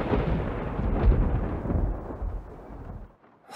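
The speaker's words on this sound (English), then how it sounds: "that bolt of lightning was huge" A massive lightning bolt in a video game sets off loud thunder: one long, heavy rumble that swells near one second, rolls on for about three seconds and then cuts off.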